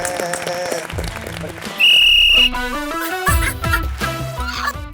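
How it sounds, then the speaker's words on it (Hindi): A single loud, sustained whistle blast on a Celebrity MasterChef cooking competition set, lasting under a second, amid background music and studio chatter. "मैं कब से सोच रही थी मैं कब किसकी सीटी बजाऊंगी"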